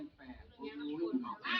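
Small ducks in a village in Isan, northeastern Thailand, give short nasal quacks and calls close by, several overlapping bursts with a louder cluster near the end, mixed with people talking.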